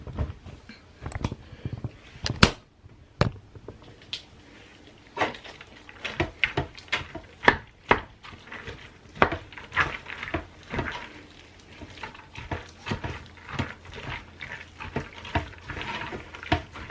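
Three-bean chili being stirred in a pot, with irregular scraping and soft clinking taps of a utensil against the pot, close and fairly quiet, no talking.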